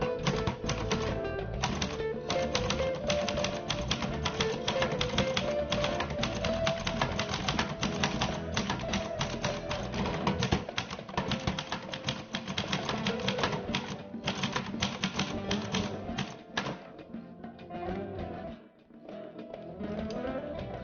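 Rapid, continuous typing on a Royal Royalite ultra portable manual typewriter, dense crisp key strikes close up for most of the stretch, easing into sparser clacks and a brief pause near the end.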